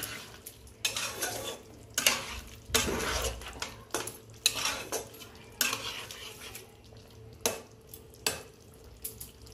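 A spoon scrapes and clinks against a pan while sugar is stirred into a simmering vegetarian cauliflower curry, with irregular bursts of metallic stirring over a faint sizzle.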